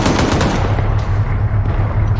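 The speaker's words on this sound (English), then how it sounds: "T-55 incoming high caliber fire" Sustained high-caliber machine-gun fire in the video game ARMA 3, a dense, loud, continuous burst of rapid shots with no pause over its short length.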